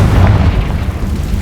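A Confringo spell explosion from Hogwarts Legacy bursts with a deep, loud boom that rumbles on steadily through the short stretch without any talk.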